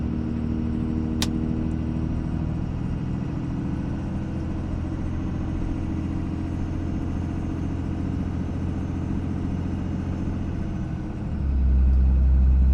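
A diesel truck engine rumbles steadily while pulling through the gears toward third, its low drone holding a constant level before deepening and swelling louder near the end as the revs rise.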